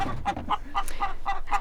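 An old hen clucks in a steady run of short, close, moderately loud calls at a farm coop in cold winter, with no talk over it.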